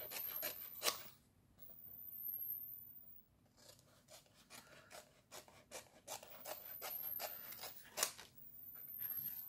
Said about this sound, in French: Je vais les découper comme ça.